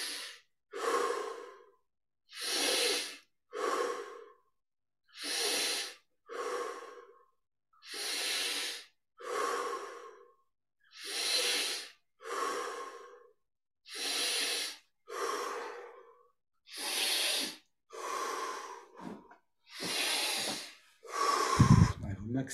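Slow, deep breathing exercise during a yoga meditation session: about a dozen long, airy inhale and exhale cycles in an even rhythm, close and clear with near-silent gaps, the breaths growing stronger toward the end.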